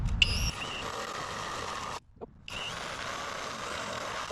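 Close, steady whine of a power drill boring a hole through the metal body of a Sprinter van, with painter's tape on the bit as a stop; the drive runs continuously, breaks off briefly, then resumes.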